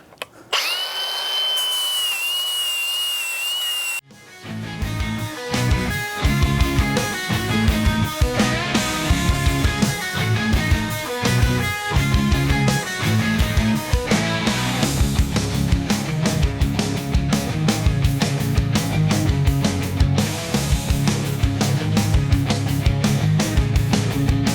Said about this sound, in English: We are going 40 grit on this flap wheel.